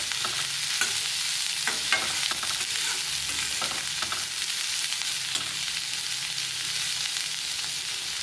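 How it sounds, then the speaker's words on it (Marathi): Chillies are sautéed with onion, garlic and cumin in a hot pan, giving a continuous dense sizzle and hiss close by, broken by soft scraping stirs throughout with no voices. "मिरची आता ही ज्या आपल्या कांदा आणि जो आपण लसूण जिरं टाकले त्याच्यामध्ये परतून घ्यायची"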